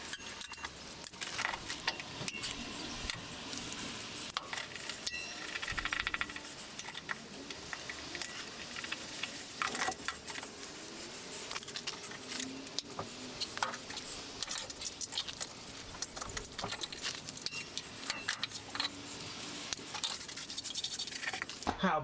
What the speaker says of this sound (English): just removing them with the vice grips